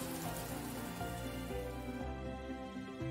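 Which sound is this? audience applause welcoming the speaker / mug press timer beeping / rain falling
rain falling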